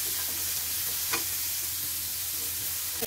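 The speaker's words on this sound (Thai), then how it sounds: "ผัดร้อนเนาะจ้ะ" Food stir-fried in a hot pan with continuous sizzling and a few scraping stirs, close and steady throughout.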